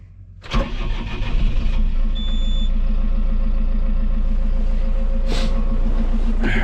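A John Deere 6230 Premium tractor engine cranks and starts, then settles into a steady, close, throbbing diesel idle with a brief clunk near the end.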